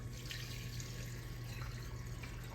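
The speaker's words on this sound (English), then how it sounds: "I'm gonna pour some of this oil out of here, because I don't need all that oil." Cooking oil is poured off from a frying pan after frying chicken-fried meat, a quiet, continuous liquid trickle and splash beneath a steady low hum.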